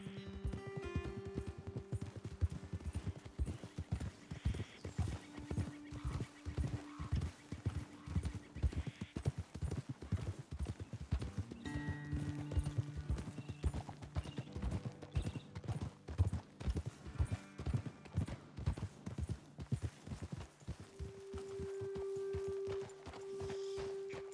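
Hooves clip-clop in a quick, steady trotting rhythm over ground, several horses close by in Red Dead Redemption 2, with a faint tonal hum beneath and no talking.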